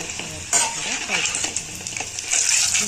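Green chillies fry in hot oil in a pan and are stirred with a utensil. A constant bright sizzle runs throughout, with scraping and clinking as they are turned, close and loud, and a voice talks faintly in the background.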